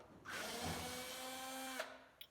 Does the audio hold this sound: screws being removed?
yes